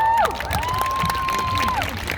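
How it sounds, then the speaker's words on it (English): A rally crowd protesting occupation cheers and applauds, with scattered claps and shouts under a sustained high whistle-like tone, fairly loud and continuous. "Round of applause real quick."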